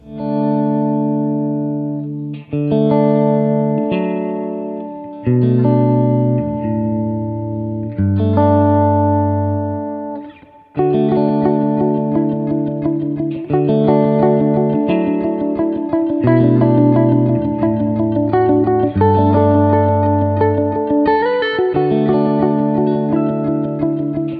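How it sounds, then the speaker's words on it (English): Clean electric guitar chords on the neck pickup through a Kemper profile of a 1965 Fender Twin amp, warm, round tone, strummed and sustained in changing shapes, ringing full with light reverb. "Fat, non-bright Fender cleans"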